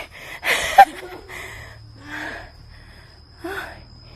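A woman breathes in heavy, audible gasps and pants after climbing up to a hilltop temple in Chiang Rai, Thailand. Three separate breathy bursts come close to the microphone, with short quiet gaps between them.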